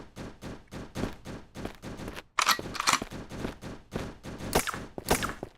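Gunfire in the video game Streamer Life Simulator 2, a rapid string of sharp shots and bursts in uneven clusters, fairly close, with no talk over it.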